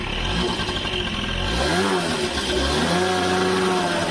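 A two-stroke scooter engine idles and runs steadily up close, loud and buzzing with a slight rise in pitch partway through, with no talking.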